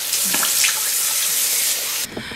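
A water tap runs steadily at a bathroom sink while a face is rinsed with cold water, a close, loud wash of running water that cuts off abruptly near the end.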